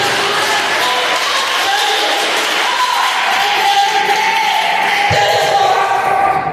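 An evening church congregation applauds throughout, a continuous loud wash of many hands clapping, with a sustained tone entering beneath the clapping midway.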